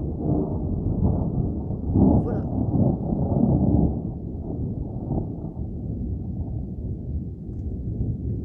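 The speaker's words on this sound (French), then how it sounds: "L'orage remonte tout doucement du sud," A moderate summer thunderstorm in the Somme in northern France sends distant thunder rumbling low and long, with a stronger roll partway through and a steady wind-like noise underneath.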